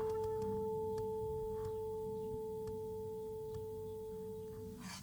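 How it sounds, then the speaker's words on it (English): A struck tuning fork rings with a steady pure tone, sustained evenly for several seconds and fading slightly at the end, faint against a quiet background. "This tuning fork creates a sine wave."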